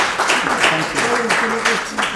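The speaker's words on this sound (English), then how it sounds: "you can clap." Audience at a book launch clapping, a scattered but continuous round of applause mixed with voices and cheering throughout.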